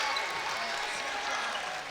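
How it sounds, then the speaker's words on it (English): Basketball crowd at Doherty cheering and applauding, a steady broadband roar filling the arena with no breaks. "Forson's firing up the Doherty crowd."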